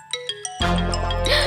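A phone ringing indoors: three short, bright chiming tones in quick succession, then a louder, fuller burst of ringtone melody that sustains to the end.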